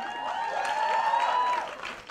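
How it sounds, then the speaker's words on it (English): Applause rises from the audience at a Prem Ratan Dhan Payo trailer launch, a crowd clapping beneath bright, sustained musical tones that swell and fade over the short span. "But a big round of applause, ladies and gentlemen."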